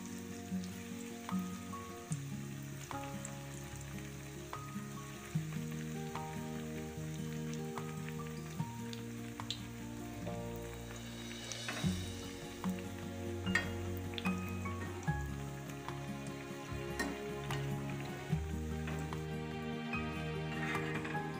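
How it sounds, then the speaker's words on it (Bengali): Bread slices fry in oil in a pan with a steady, even sizzle that runs throughout, under a layer of tonal, music-like sound. "একইভাবে বাকি পাউরুটিগুলো ভেজে নিচ্ছি।"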